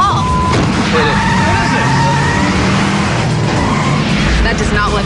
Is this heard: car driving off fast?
yes